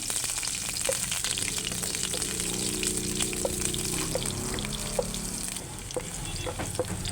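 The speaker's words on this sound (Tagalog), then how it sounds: "Magisa na tayo ng ating ahos. Bombay." Garlic and onion sautéing in a pan for a Filipino mung bean dish, a steady close sizzle and fry with scattered stirring clicks and light scrapes throughout.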